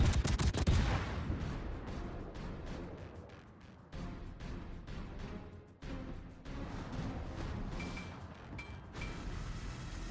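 Naval guns firing in the World of Warships video game: a series of sharp booming salvos, several shots in quick succession at the start, then scattered reports and rumbling echoes over about ten seconds.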